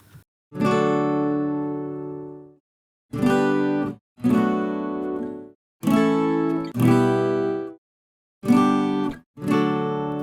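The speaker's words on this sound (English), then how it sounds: "I have recorded 2 more tracks, which is acoustic guitar rake picked" Two rake-picked acoustic guitar tracks panned wide left and right ring out in separate bursts, each raked chord sustaining then stopping, six or seven strokes with short silences between.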